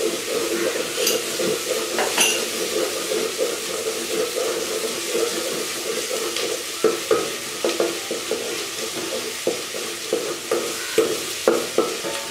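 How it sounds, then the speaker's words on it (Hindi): Ginger garlic paste frying in a pan for an aloo gosht curry, with a steady close sizzle and repeated scraping stirs that grow sharper toward the end, no voices. "एक मिनट हो गया अदरक लहसुन के पेस्ट को भूनते हुए।"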